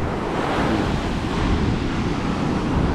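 Ocean surf rolls in at Don Diego beach in Palomino, where a river meets the sea, a continuous loud wash of waves mixed with wind buffeting the microphone, with no voices.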